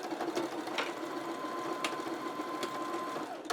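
A sewing machine back stitches over a strap on an off-shoulder tie-top, running with a continuous close whirr and a faint steady hum, broken by a few light clicks.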